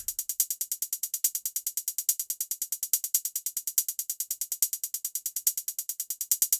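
A fast, even hi-hat pattern from a beat ticks steadily, some hits landing harder than others to create a pulsing accent.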